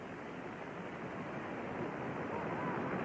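Cold wind sweeping through the Estádio Nacional during a 1992 Club World Cup final football match between Barcelona and São Paulo, a steady, fairly faint broadband rush with no clear gusts.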